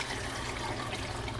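Water pours steadily into a pot of burnt sugar for stewing ribs, a continuous rushing, splashing wash with no pauses and no talking.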